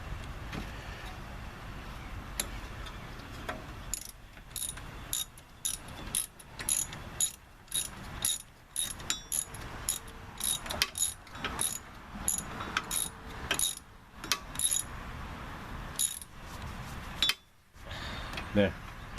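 A wrench works on the wheel hub of a 2005 Hyundai Elantra during a bearing replacement, giving a rapid run of sharp metallic ratcheting clicks in irregular bursts, close and fairly loud, with brief pauses between strokes.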